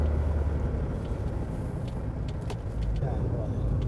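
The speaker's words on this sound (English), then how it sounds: "I'm cruising along here at about 30 miles an hour in fourth gear" Mercedes 240D non-turbo diesel car cruising at about 30 mph in fourth gear: a steady low engine drone with road and wind rumble inside the cabin, a voice faintly present over it.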